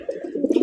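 Racer pigeons coo softly with low, throaty murmurs that repeat close by and build slightly toward the end of the moment.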